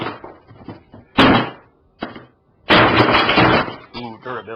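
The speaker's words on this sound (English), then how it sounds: "Ooh, durability. The glass busted." Cell phone glass cracks and snaps as the handset is pried apart by hand: two sharp bursts of breaking crunch rise between stretches of quieter fumbling and talking voices close by.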